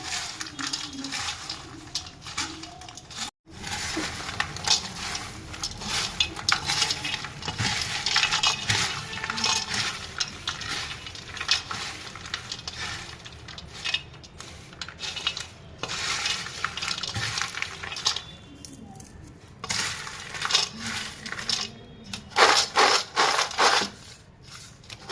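Farali chivda, a potato lacha mix, is tossed with spice masala in a pan, giving continuous dry rustling, crunching and scraping with frequent small clinks, close and steady throughout.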